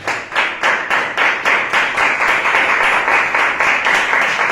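A church congregation claps in unison, steady rhythmic hand claps repeating quickly and loudly throughout, close and full, with no talk over them.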